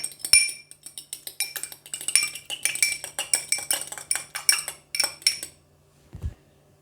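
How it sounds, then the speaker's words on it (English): An egg whisked with a fork in a bowl, rapid rhythmic metallic clinking strokes close up for several seconds before stopping, followed by a soft thud. "I'm gonna whisk 1 egg. I do it with fork."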